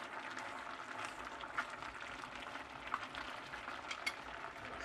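Herbal braised lamb belly stew bubbles in a clay pot, a faint, steady simmering sizzle broken by a few small pops, with no talking.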